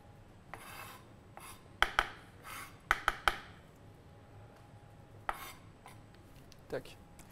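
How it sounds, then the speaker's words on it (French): A knife finely chopping an aniseed-flavoured herb on a board for a bottarga linguine: a few separate sharp taps, then a quick cluster of four crisp cuts, followed by two more isolated knocks in a quiet kitchen. "On essaie de le couper assez finement."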